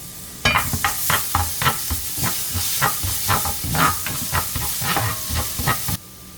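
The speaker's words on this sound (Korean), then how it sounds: "먼저 이 마늘을 볶아주세요" Minced garlic sizzling in hot oil in a pan, a continuous loud hiss broken by rhythmic scraping strokes as it is stirred, close and steady with no talking.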